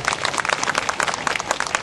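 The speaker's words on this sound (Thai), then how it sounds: "ขอเสียงปรบมือให้ ตัวแทนเครือข่าย ทุกเครือข่ายนะครับ" Audience clapping for representatives of local networks at a Nakhon Si Thammarat rally against a power plant, a steady dense patter of many hands close by, continuous and fairly loud with no voices over it.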